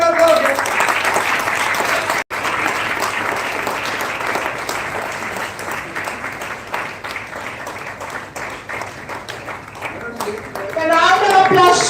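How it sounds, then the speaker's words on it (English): Sustained applause from an audience at an inauguration ceremony of a national oratory contest, steady clapping for nearly twelve seconds with a brief dropout, swelling louder at the end as a voice comes in. "A big round of applause."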